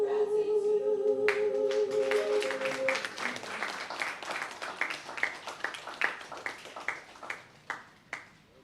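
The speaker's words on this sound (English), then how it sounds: "A bigger round of applause for Jenny Jackson" Audience applause at a candle lighting ceremony for an international netball series, starting after a sustained tone and swelling into dense clapping that thins into scattered, sharper individual claps toward the end.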